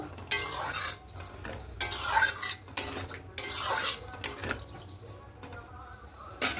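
Aloo dum, a spiced potato curry, being stirred in a pan after adding garam masala and a spoon of ghee: intermittent scraping and clinking strokes of a spoon against metal, a few close bursts separated by short pauses.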